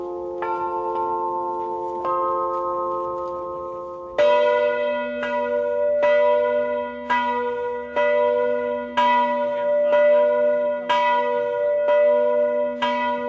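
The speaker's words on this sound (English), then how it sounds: "Life in this establishment is lived to the rhythm of its bells." Bells ringing at the Cornille-Havard bell foundry, clear sustained tones. Lighter strikes come first, then heavier, deeper bells are struck in a regular rhythm, each note ringing on and overlapping the next.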